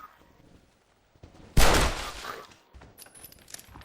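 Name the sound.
pistol gunshots in Red Dead Redemption video game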